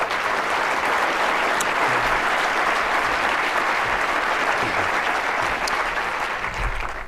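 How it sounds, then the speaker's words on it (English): Sustained applause from an audience at a United Way annual meeting, steady, dense clapping filling the room for the whole stretch without a break. "Let's have a round of applause."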